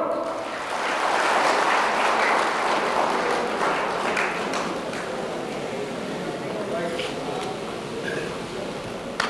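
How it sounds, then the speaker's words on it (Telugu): Applause from an audience at a community association stage event, steady and fairly loud, swelling early and continuing throughout the stretch with voices talking over it. "చప్పట్లు."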